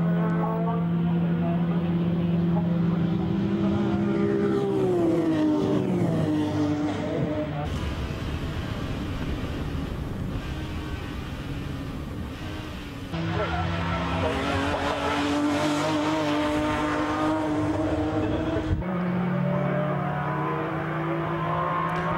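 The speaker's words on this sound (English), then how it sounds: "Out of the right-hander then, the two BMWs together, tyres squealing." Two BMW race cars battle through a right-hander at Castle Combe circuit, tyres squealing and engines revving loudly, with a commentator talking over the racing noise throughout.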